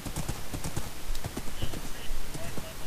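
A horse's hooves clip-clop in quick, even beats in a Minecraft survival world, close and fairly loud against a low ambient background, with no voices heard.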